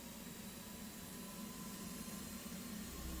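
A jet engine spools up during start-up in the DCS flight simulator game, producing a constant whooshing roar with a low steady drone that swells slightly toward the end.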